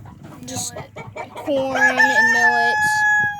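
Chickens cluck in a farmyard, and partway through a rooster lets out a loud, drawn-out crow close by. A few soft voices sit faintly in the background.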